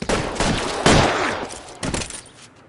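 Close, loud gunfire in the video game L.A. Noire during a street shootout, with several sharp cracks and short bursts in uneven rhythm that trail off into fainter echoing shots toward the end.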